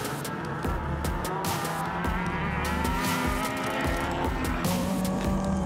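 Pro buggies battling at an offroad championship round in Manukau, New Zealand, their engines revving and snarling up and down with tyre squeal and skidding, loud and close, with no talk.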